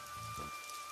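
Steady rain hisses down in a broad, even wash, with a faint low thump partway through the brief moment.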